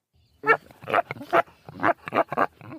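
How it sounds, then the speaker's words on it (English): A mini pig and a Lagotto Romagnolo truffle dog make a run of short grunting, snuffling calls, about seven close, loud bursts spaced through a few seconds with quiet gaps between. "with a little help from her Lagotto Romagnolo dog Caesar and mini pig Clarence"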